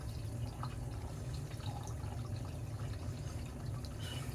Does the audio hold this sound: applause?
no